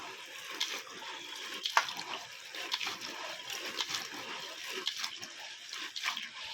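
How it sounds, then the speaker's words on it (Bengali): Jujube berries being washed by hand in a bowl of water for pickle, soft sloshing and splashing swirls repeating quietly at close range. "খুব ভালো করে ফুলগুলো পরিষ্কার করে ধুয়ে নেব।"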